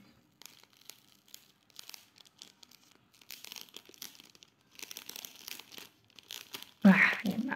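Plastic packaging is pulled off a bag during an unboxing, with irregular crinkles, rustles and tearing that build from soft to busier handling and end in a sharp, loud crackle, all close with no speech over it.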